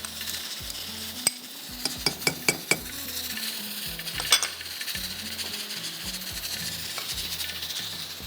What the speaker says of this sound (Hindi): इसको हम थोड़ा सा फ्राई करेंगे।